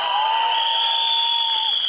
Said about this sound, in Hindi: बट एक बार उसके लिए जोरदार तालियां.